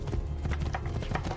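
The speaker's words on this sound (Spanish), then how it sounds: "Voy a subirme el caballo." Horse hooves clip-clopping at a steady gallop in the video game Assassin's Creed II, a dense rhythmic patter of hoofbeats with no voices over it.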